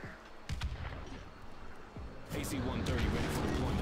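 Harrier airstrike in the shooter game Modern Warfare 2 Remastered: heavy rumbling blasts and gunfire building into a dense, roaring barrage, loud and continuous with game sounds around it.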